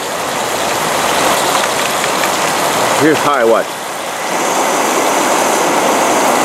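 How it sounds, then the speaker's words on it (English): Two camping stoves burn with a steady, jet-like roar that fills the whole clip, loud and broadband, while someone speaks briefly over it. "they're both working great. Yeah, I can hear it. They're like jet motors"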